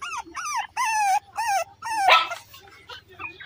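Beagle puppies whimper and yip in a quick series of high, whining cries, close and fairly loud, with short gaps between the calls and a slightly rougher yelp near the end.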